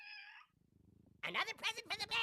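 A cartoon kitten in South Park gives a few loud, close meows, following a brief bit of talk and a soft low hum.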